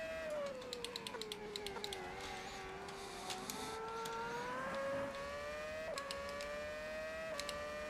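A race car in a sim racing game sits on its rev limiter, a sustained high engine tone with a rapid stuttering buzz that rises and dips slightly, steady and loud throughout.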